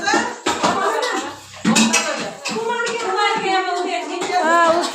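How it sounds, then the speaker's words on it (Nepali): Pots, pans and cutlery clatter and scrape as a woman scrubs and washes dishes, with sharp clanks and knocks through the stretch while voices talk over the washing. "आमा चाहिँ भाडा चम्काउन थालिसक्यो"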